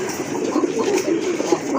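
Fancy pigeons in cages coo softly and repeatedly at close range, low throaty calls overlapping in a short steady burst.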